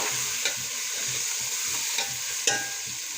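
Finely chopped capsicum is stirred as it fries in a pan, with a steady sizzle and a few soft scraping knocks from the spoon at intervals.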